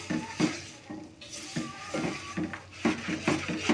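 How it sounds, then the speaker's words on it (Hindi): A spoon stirs semolina in desi ghee in a pot for dry halwa, giving about ten rhythmic scraping strokes with soft sizzling between them, close and alone. "अब हमने इसमें चम्मच चलाते रहना है।"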